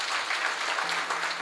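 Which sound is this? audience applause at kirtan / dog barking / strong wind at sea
audience applause at kirtan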